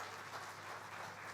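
Faint, steady audience applause at a defence conclave, greeting the Chief of the Air Staff, a dense wash of clapping with no voices over it.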